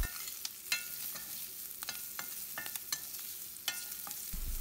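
Small onions and garlic fry over a low flame in a pan, with a steady soft sizzle broken by several sharp scraping stirs, close and moderately quiet, with no talking.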